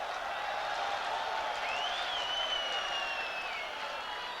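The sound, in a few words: football stadium crowd cheering and applauding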